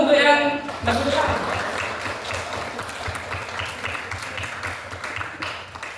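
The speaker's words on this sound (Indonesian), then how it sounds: "Kita beri aplaus dulu untuk yang berdepan" A classroom group applauds the students presenting in front, scattered clapping that fades out beneath a teacher's voice.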